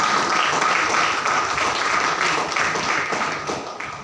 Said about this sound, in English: Let's give a good clap to him.